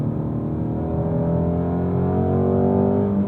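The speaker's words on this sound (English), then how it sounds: "I'm noticing the throttle blip, it's actually a pretty aggressive jab" A 2018 Ford Mustang Shelby GT350 engine holds a deep, steady drone whose pitch climbs gently under throttle, close and uninterrupted, with no voices.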